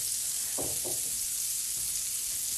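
Vegan burger patties frying in a pan, giving a steady broadband sizzle with a few brief knocks or shifts early on, no voices.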